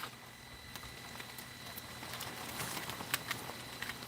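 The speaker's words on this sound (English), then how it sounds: "Those are the cold drops that you hear." Cold rain falls outdoors as a steady, soft patter, with scattered brief drips and ticks standing out over a continuous, moderately loud wash of drops.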